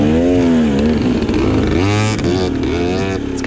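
A TM dirt bike engine in a motocross race, its crisp, high-pitched note rising and falling through gear changes and revs, loud and close for the whole stretch.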